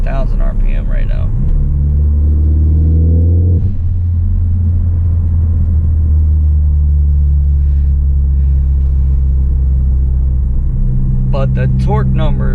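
A tuned 2015 Ford Focus ST with a Cobb Access Port holds a steady 4,000 RPM, its engine droning loud and constant from inside the car, with a brief voice near the end.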